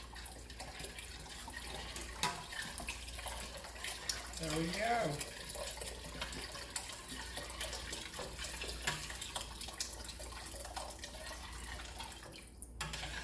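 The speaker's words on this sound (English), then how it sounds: "Go ahead and just pour that chicken broth in there." Chicken broth poured into a soup pot during home cooking, a soft steady liquid trickle and splash with drips, while people talk briefly over it.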